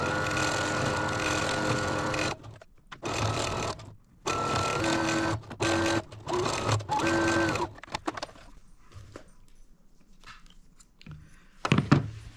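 A sewing machine stitches quilt blocks in several bursts of loud, steady running, separated by short pauses, then gives way to quieter clicks and handling sounds near the end.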